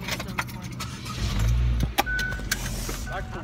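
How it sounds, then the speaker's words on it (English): Someone climbs into a car: keys jangle, a door thunks and a low interior rumble builds, with a sharp click and faint voices mixed through the cabin sounds. "Alright, so we're getting in the car."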